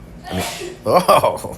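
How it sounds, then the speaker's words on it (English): One sharp human sneeze indoors with a quick breathy intake, followed right away by a brief spoken exclamation. "Everybody on YouTube just heard you sneeze."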